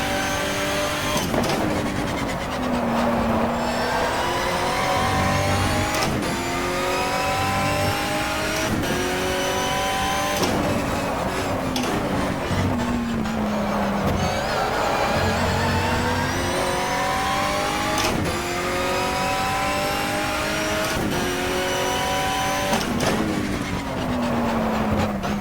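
A race car engine in the GTR2 racing video game laps the track, revving hard and climbing through the gears again and again, with short dips at each shift and a loud, steady presence from start to finish.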